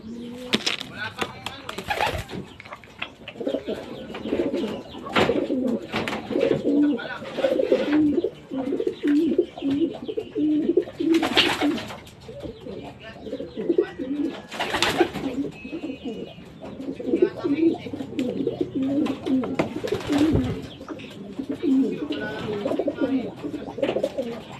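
Racing pigeons coo repeatedly in a steady, close chorus of low rolling calls after a hard derby race, with a few brief sharp noises breaking in over a busy loft background.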